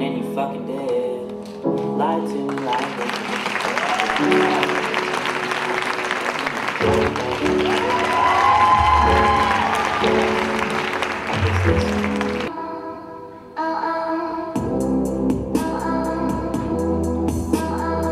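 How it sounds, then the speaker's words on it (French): An audience claps and cheers at a pink-themed evening party in 2016, a broad wash of applause running under loud, continuous music with no voices standing out. "Mesdames, Messieurs, sous vos applaudissements, Manhattan Poltens"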